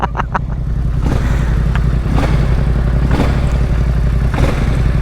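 A big-displacement motorcycle idles on its original exhaust, a loud, close, steady low rumble with a pulsing throb and occasional light mechanical clatter, no one speaking.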